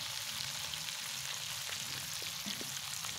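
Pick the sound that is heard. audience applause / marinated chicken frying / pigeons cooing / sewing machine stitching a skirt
marinated chicken frying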